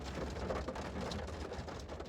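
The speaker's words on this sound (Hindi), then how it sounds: "बारिश हो रही है" Monsoon rain falling outside a car, a soft continuous patter of drops on the surface with occasional faint low rumbles, steady and fairly quiet.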